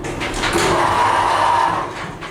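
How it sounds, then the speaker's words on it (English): A KONE hydraulic elevator door operator at a Macy's in Vancouver Mall drives the door closed with a loud, sustained grinding whine that swells, holds for about a second, then fades as the door settles. "That is the worst sound door operator ever heard."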